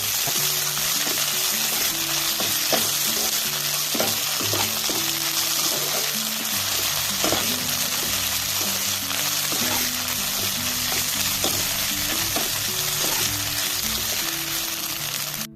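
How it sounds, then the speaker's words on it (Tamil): Onions, ginger garlic paste, green chili and curry leaves fry in hot oil for a home-style mutton kulambu, giving a loud, steady, close sizzle with occasional stirring clatter and no talking. "வெட்டி வச்ச வெங்காயத்தை போடுங்க. வெங்காயம் போட்டதுக்கப்புறம் பார்த்திங்கன்னா கொஞ்ச நேரம் கழித்து இஞ்சி பூண்டு பேஸ்ட்டு, அப்புறம் பச்சை மிளகா, கருவேப்பிலை இதெல்லாம் போட்டு நல்லா ஃப்ரை பண்ணிக்கோங்க"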